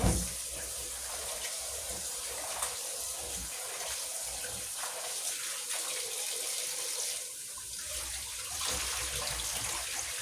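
Tap water gushing steadily into a pot of chickpeas being rinsed, a continuous splashing rush with slight swells, moderately close, no voices.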